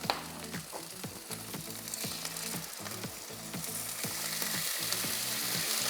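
Soy sauce poured into a hot pan where salmon is frying, raising a loud, dense sizzle with rhythmic crackling and popping that holds steady and grows slightly stronger, close up with no talk.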